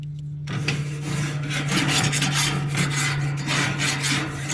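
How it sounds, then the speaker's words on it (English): Kamado Joe Big Joe grill grates being scrubbed clean with a brush, a rapid, continuous rasping scrape close by, with no talking. "now's a good time to clean your grates"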